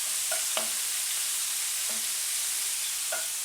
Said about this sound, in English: get the bacon lardons in. Get them nice and crispy.